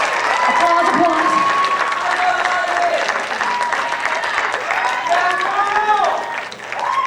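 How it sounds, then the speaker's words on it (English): Audience applause after a high school band concert, a dense continuous clapping that fades near the end, with a voice speaking over it. "Keep applause, applause. Applause, applause."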